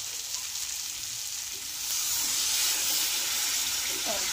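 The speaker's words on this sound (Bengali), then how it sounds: "মাছগুলো দিয়ে হালকা মশলা দিয়ে একটু নাড়াচাড়া করে দিয়ে আমি দিয়ে দেব জল।" Pieces of fried shankar (stingray) fish with light spices sizzle and hiss steadily in a pan while being stirred, the frying growing a little louder halfway through, close and continuous with no talk.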